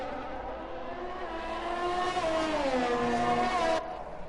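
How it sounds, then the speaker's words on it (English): An F1 2020 race car engine in the video game at the Japanese Grand Prix near Suzuka's 130R, glitching into a high revving whine that rises, bends downward in pitch, then cuts off abruptly. "That revving glitch is fantastic."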